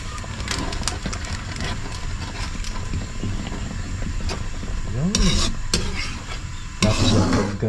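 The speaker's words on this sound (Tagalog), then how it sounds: "haluin para hindi magbuo-buo yung gata" Coconut milk being stirred in a pot, a soft, continuous bubbling simmer with scattered light scrapes and clinks of the spoon and a louder stretch near the end.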